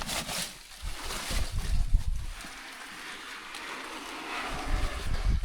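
Wind gusts out of a cave entrance and buffets the microphone in low, rumbling bursts, strongest in the first two seconds, then settling into a softer steady rush.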